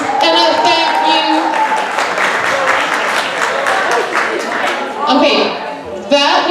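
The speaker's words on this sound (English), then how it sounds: "that was the lamest round of applause for Madame Davern I have ever heard" A school audience gives a thin, subdued round of applause for a French teacher, steady scattered clapping lasting several seconds with crowd murmur underneath.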